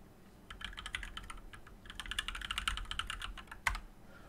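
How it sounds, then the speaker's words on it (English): Fingers tap on a computer keyboard in quick, irregular bursts of light clicks, close and fairly quiet, with a sharper keystroke near the end. "you just type in node dot"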